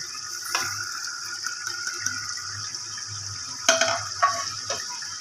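Okra in a pan with salt, turmeric and red chili is stirred, producing a light sizzle under intermittent scraping and clinking of the spoon, louder toward the end, with no one talking.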